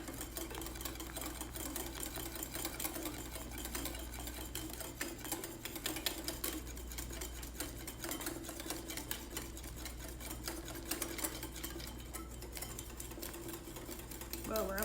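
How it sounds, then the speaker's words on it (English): Rapid whisking of sabayon (zabaione) for tiramisu, a fast steady ticking and rattling of a whisk against a bowl that continues throughout, with talking mixed underneath. "This is going to be an hour of me whisking."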